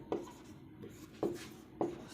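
A few separate scratchy marks written on a classroom board: three sharper strokes stand out over a soft, rubbing background, quiet and near, with no voices.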